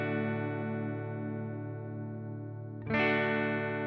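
A sustained, harmonically rich synth-like tone is processed through a chorus effect from the EchoFlower iOS app, shimmering steadily before a brighter, swelling attack near the end.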